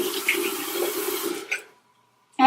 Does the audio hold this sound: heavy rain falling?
no